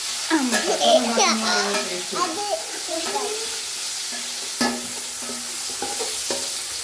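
Tomatoes being stirred into a pan of chicken curry, a steady frying sizzle with scraping spoon strokes, moderately loud and close, with brief speech-like sounds early on.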